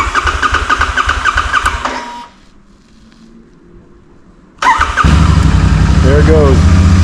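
A Royal Enfield Super Meteor 650 with dual pipes that hasn't been started in a while idles loudly, cuts out briefly, then fires again and settles into a steady, close rumble, with a voice talking over it.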